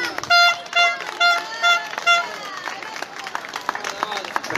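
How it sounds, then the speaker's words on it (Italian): Audience at a local talent show breaks into clapping and cheering after a few loud musical bursts, the applause blending with lively crowd chatter and voices. "Prego, facciamo un applauso"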